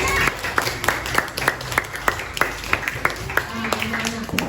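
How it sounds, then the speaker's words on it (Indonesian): A small classroom group claps for a student at a school session, with sharp, fairly regular hand claps at a moderate pace and a murmur of voices underneath. "tepuk tangan untuk Melin"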